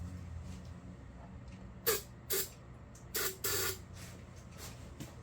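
Short bursts of aerosol spray shot into a Predator 3500 watt inverter generator with a failing carburetor, four hissing blasts of varying length over a low background rumble.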